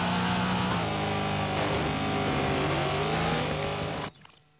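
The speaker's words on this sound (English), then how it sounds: "These cars scream and rumble" Video game race car engines roar loudly and continuously, pitches sliding up and down as they rev, then the sound cuts off abruptly near the end.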